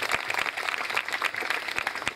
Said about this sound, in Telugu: చప్పట్లు కూడా దేవుని స్తుతిద్దాం